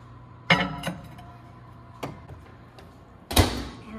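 A kitchen microwave door is handled, giving a few sharp thuds and clacks spaced apart, with the loudest latch-like clunk near the end, close by in a quiet room.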